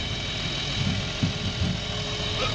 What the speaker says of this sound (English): It's got a higher tier engine in it, you know, cleaner engine in it. That sounds a little different